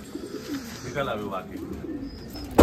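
Racing pigeons coo softly in a loft during a pigeon race in Nashik, a low rolling coo close by with faint chirps, ending in a sudden loud thump.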